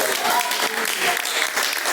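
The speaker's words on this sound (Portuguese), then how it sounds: "As palmas que louvam o nome do Senhor" A congregation in a Pentecostal church service breaks into applause praising the Lord, a loud, dense wash of clapping hands from many people, with voices mixed in underneath.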